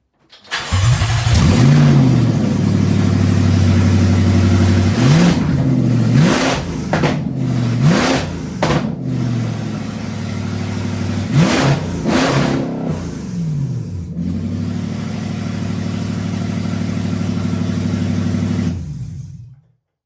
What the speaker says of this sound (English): start the engine with no exhaust on at all